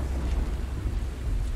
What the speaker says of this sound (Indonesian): Bayangin lagi hujan parah kayak gini, hujan deras gini